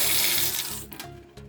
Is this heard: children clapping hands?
no